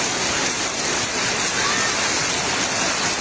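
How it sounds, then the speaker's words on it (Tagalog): Heavy rain pours in a steady, dense roar during the Typhoon Gaemi flood in Barangay Tatalon, Quezon City, Philippines, loud and continuous with no break. "Ay, ang lakas ng ulan!"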